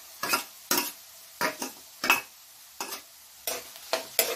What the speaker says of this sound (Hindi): थोड़ा सा मिक्स कर देते हैं।